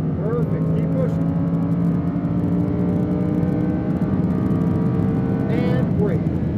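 A Lamborghini Huracan engine drones loudly and steadily as the car laps a race track, with a rising whine near the end and voices talking over it at times.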